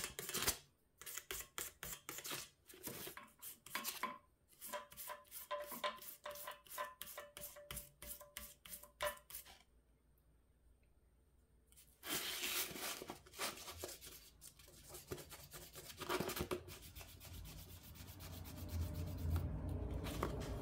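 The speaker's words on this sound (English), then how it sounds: "I like 1000 grit sandpaper. You just kind of drag it across." Fine 1000-grit sandpaper is rubbed back and forth across a metal part from a disc sander, making a rapid series of rhythmic scratchy strokes. A short quiet pause follows, then a longer stretch of continuous dense rubbing.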